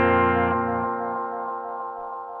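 Repeats from a Gokko Audio Dripping Analog Delay pedal trail off after a sustained chord, the tone stepping down and slowly decaying in a dense wash of echoes with no talking.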